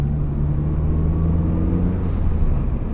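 A first-generation Mazda 3 MPS drives normally, heard from inside as a steady, loud low engine drone and road rumble with no talking.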